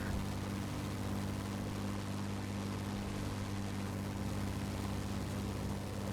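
Bomber plane engines in the air combat game World of Warplanes hold a steady, droning propeller hum with a low tonal throb, continuous and fairly loud, with no talking.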